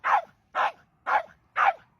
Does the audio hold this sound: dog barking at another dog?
yes